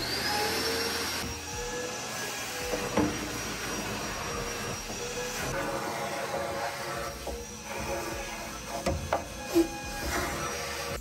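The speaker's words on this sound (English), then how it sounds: "I vacuumed up the dust in the bottom" A vacuum cleaner sucks up dust from the bottom of a laminate dresser being refurbished. It makes a steady, close, continuous whine with a few brief knocks and scrapes as the nozzle moves.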